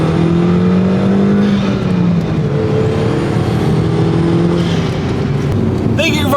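A 2002 Audi TT accelerates hard, its engine note climbing steadily and loud throughout, with the pitch rising through the gear before a brief shift near the end.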